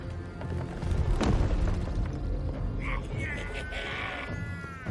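A cannon fires in the fantasy role-playing game Baldur's Gate 3, one deep booming blast over a rumbling battle soundscape, with creature cries and shouting voices around it.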